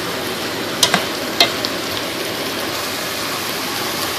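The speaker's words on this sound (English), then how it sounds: "Saute them for about a minute before you add everything else." Vegetables for a chicken chili sautéing in a pan, a steady loud hiss of frying with a couple of brief utensil clinks near the start, and no talking.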